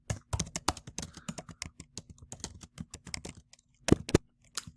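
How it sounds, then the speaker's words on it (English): Fingers typing on a computer keyboard, close and clear: quick bursts of sharp key clicks with short pauses, then a couple of louder strikes near the end. "I can type here."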